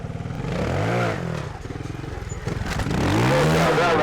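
Classic 1982 Fantic 200 trials motorcycle popping a wheelie over an obstacle, its engine revving up and down in close, loud bursts with rising and falling pitch and some clatter.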